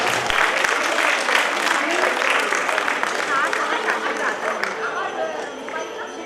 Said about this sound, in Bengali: প্রত্যেকে একটা জোরে করতালি